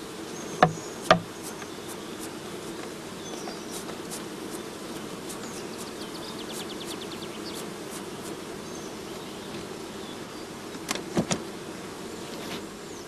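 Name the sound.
bees shaken and brushed into a swarm box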